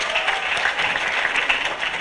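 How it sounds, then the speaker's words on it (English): Brief, steady applause from a conference audience at a session on sustainable agriculture and food security, a moderately loud wash of clapping with no distinct voices. "give a round of applause to her."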